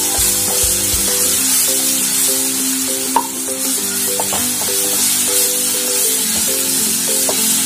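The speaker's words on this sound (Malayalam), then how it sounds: "നെയ്യ് ചൂടായിട്ടുണ്ട്, ഇനി കായയാണ് വഴറ്റി. ഈ നെയ്യിലൊന്ന് വഴറ്റിയെടുക്കാം." Plantain slices sauté in hot ghee, giving a steady, close sizzle with light stirring and a few scattered utensil clicks, no talk.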